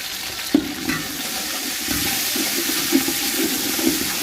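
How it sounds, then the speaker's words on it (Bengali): Ginger garlic paste frying with onions in a pan gives a steady broad hiss, with occasional scraping stirs and soft pops throughout, no one speaking. "আদা রসুন বাটা দিয়ে ভালো করে ভাজবো"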